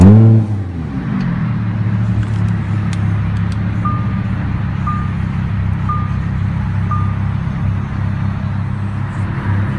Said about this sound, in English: push the start button located on the center console to start.